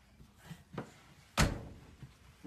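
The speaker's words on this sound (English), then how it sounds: "Close the door." A single solid thud as a door swings shut close by, preceded by a few faint knocks and shuffles in a quiet room.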